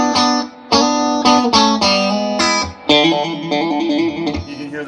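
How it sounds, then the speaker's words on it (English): Distorted electric guitar plays a repeated lick, with choppy picked note bursts, a rapidly alternating trill, and sustained ringing tones, loud and close with no voices. "You can hear that trill in the background."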